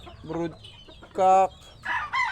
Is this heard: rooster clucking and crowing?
yes